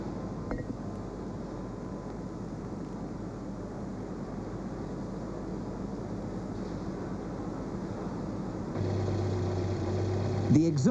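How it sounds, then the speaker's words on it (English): A VW Golf MK2 engine runs on a rolling road test in a German production plant, a steady mid-level drone that swells slightly near the end over a busy factory hum, with faint speech at one point. "On the rolling road, the car is checked under simulated conditions."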